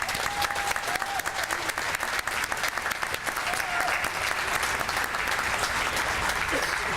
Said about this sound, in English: Can we have one last round of applause for all of our new citizens?